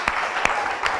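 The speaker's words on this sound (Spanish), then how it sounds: "dale un aplauso al Señor" A congregation at a Sunday church service in Mar del Plata applauds in praise, a brief burst of steady clapping broken by a few louder slaps.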